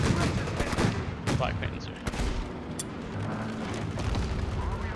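A Sturm Panzer IV Brumbar assault gun fires in a Company of Heroes 3 battle, heavy booming blasts and crackling gunfire over a loud, dense battle din, with someone talking over it.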